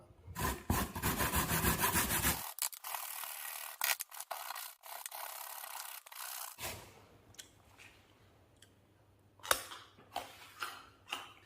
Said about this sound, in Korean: 자, 이거는 구멍이 작은 치즈 그레이터입니다. 자, 당근 그레이터 해줍니다.